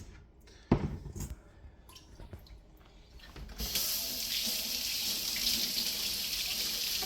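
Garnets are rinsed under a running tap. A few clinks and handling knocks come first, then a steady stream of water rushes loud and close for the rest of the moment.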